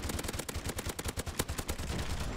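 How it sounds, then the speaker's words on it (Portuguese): Rapid gunfire from the Call of Duty 4 video game, a steady string of loud, sharp automatic shots at an even rhythm over a constant background roar, with no talk. "Eu vou atirar nessa porra aqui, vou destruir esse caralho na bala."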